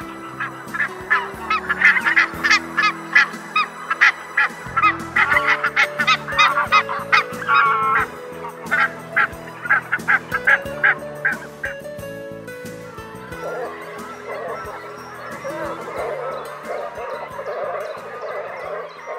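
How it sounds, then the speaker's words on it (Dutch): A flock of greylag geese resting on open wetland, honking loudly in rapid overlapping bursts for about twelve seconds before settling into softer, continuous calling. "De grauwe gans ruit het liefst gezamenlijk op de Noordwaad waar rust is te vinden."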